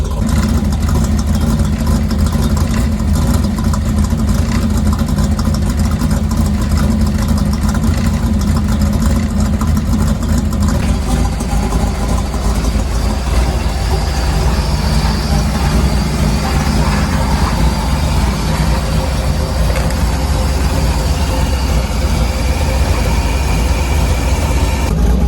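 A 1966 Ford Mustang V8 with a four-speed, up on jack stands, idling loud and rough at close range with a steady, lumpy rumble that holds for the whole stretch.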